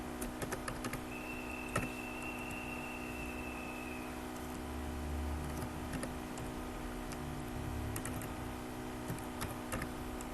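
Names are typed into a table on a computer keyboard, heard as faint, scattered key clicks over a steady background hum, with short bursts of tapping near the start and again toward the end.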